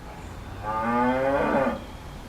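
A cow lets out a single drawn-out moo, loud and fairly close, lasting about a second over quiet background.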